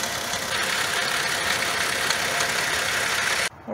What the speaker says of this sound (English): Multiple cylinder misfiring, more than one. Shaking really bad.